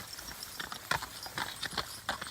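Four male horses on a farm clip-clop their hooves in quick, irregular steps, faint and somewhat distant against a hissy outdoor background.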